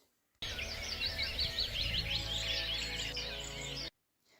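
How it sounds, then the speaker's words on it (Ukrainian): Birds chirp and trill continuously in a dense, lively chorus, bright high-pitched calls overlapping against a low background rumble. "Правильно, дітки, це спів пташок."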